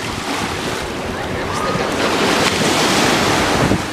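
Ocean surf crashing onto a Gulf Shores beach, a continuous roaring wash of breaking waves with gusts of wind buffeting the microphone, loud and close throughout.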